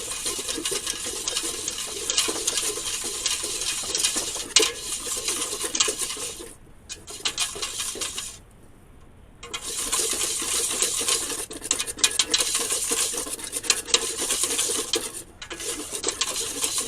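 A whisk scraping and clinking steadily against a pot as a roux browns for sausage and seafood gumbo, rapid close metallic strokes in continuous bursts with a couple of short pauses.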